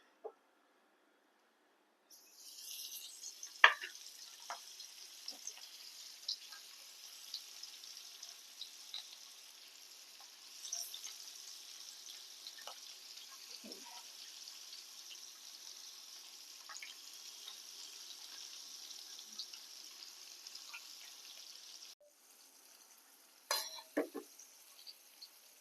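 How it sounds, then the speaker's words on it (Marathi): Mandeli fish coated in rava sizzling in a hot pan, a steady frying hiss that starts after a short silence and runs continuously, with occasional louder spatters and utensil taps near the end. "त्याच्यामध्ये आपण आता बुडवून तव्यामध्ये फोडूया।"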